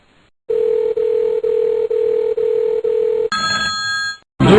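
A telephone ringback tone pulses in six short, evenly spaced beeps for a prank call, loud and clear, followed by a brief burst of higher electronic tones and a click as the line connects.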